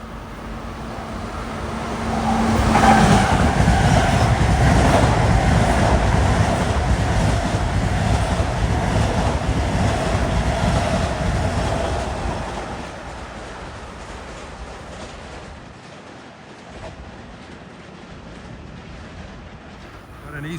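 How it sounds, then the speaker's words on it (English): Long Island Rail Road commuter train 2008, a Ryder Cup special from Grand Central to Farmingdale, roars loudly past Queens Village station with steady wheel and rail rumble, then fades as it recedes. "This will be for another Ryder Cup special, train 2008 from Grand Central to Farmingdale."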